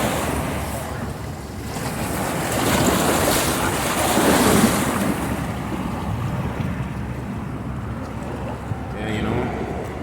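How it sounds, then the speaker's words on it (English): Ocean surf breaks along a park shoreline, swelling and receding in a continuous wash mixed with wind buffeting the microphone, fairly loud and close, with faint voices in the background. "You guys see these waves, man?"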